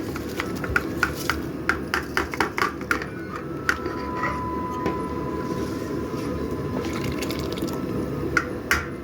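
Soaked, drained rice for Hyderabadi chicken dum biryani tipped into a pot of boiling water, giving a steady close bubbling wash with scattered sharp clinks and taps throughout.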